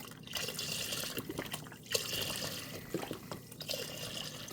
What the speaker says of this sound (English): you're going to want to add about 5 cups of chicken broth, or 6.